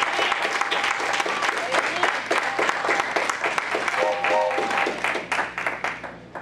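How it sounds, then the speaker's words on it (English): Guests at a church banquet honouring a pastor give a warm round of applause for an honoured couple, dense clapping with crowd murmur and a few voices, tapering off at the end. "I want y'all guys to give them a big round of applause"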